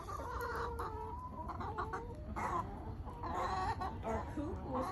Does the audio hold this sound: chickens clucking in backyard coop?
yes